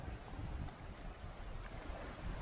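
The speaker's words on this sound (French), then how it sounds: "il y a pas mal de houle, il y a du vent" Ocean swell and gusty wind at a sailboat anchorage make a steady, broad rushing roar with buffeting microphone wind noise and no voices.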